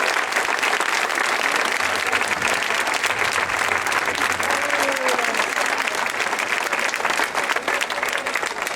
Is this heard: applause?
yes